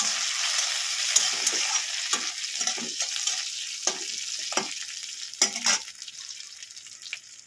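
Boiled garlic cloves and two dried red chillies fry in oil in a pan for a flat bean dish, giving a steady close sizzle broken by the scrape and clack of stirring, with no talking.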